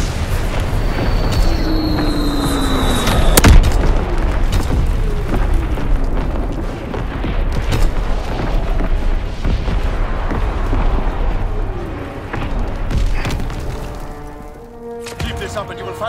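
Heavy artillery barrage in a war video game set on the Eastern Front, a continuous rumble of booms and blasts with one sharp loud impact early on, dense and loud throughout.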